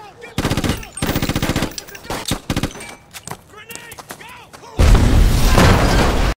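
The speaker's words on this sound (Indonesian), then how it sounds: "Lalu ia pun menembak Pedro" Bursts of gunfire from an action film: rapid machine-gun volleys and single loud shots in quick succession, followed by a sustained roar of heavy firing and explosions near the end, with no talk over it.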